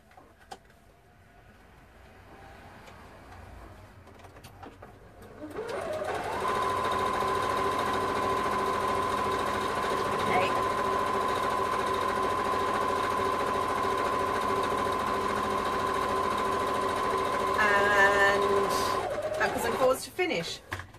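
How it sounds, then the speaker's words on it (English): A sewing machine stitches along an edge of a kimono style wrap top, a steady close whir lasting about fifteen seconds with a brief change near the end as it finishes, after a quiet start. "Backwards and forwards to finish, gives you a nice locked in stitch."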